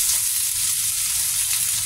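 Beef tongue sautéing in a pan with browned aromatics, a steady loud hiss of frying oil continuing without a break.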